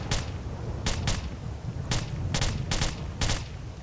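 Gunfire in the video game S.T.A.L.K.E.R.: a run of sharp, loud single shots, about seven in under four seconds and unevenly spaced, over a dense rumbling game background with no talking.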